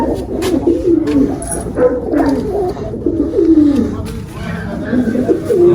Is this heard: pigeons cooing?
yes